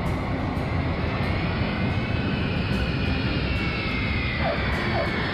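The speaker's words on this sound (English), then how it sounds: "The airplane just lowered the landing gear." An airplane coming in to land with its landing gear lowered, a continuous broad engine roar that stays steady and loud the whole time, with no talk.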